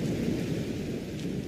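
Thunder rumbling through a heavy rainstorm, a deep continuous roll over dense rain hiss, close and loud with no voices.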